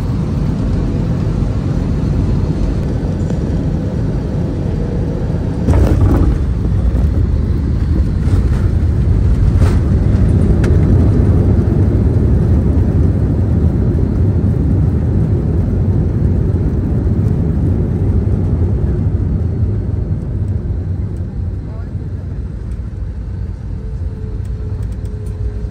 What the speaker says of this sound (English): now the plane is going to land at Jaipur airport